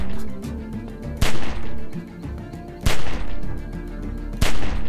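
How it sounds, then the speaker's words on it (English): Gunfire aimed at a window in The Walking Dead video game: three loud, sharp gunshots spaced roughly a second and a half apart, close up over a steady rumbling game background. "Just shoot at the window and keep that fucker's head down till I get where I'm going."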